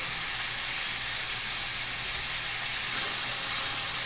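Steady, loud sizzle of sweet potato frying in hot oil, a continuous close hiss with no break across the few seconds.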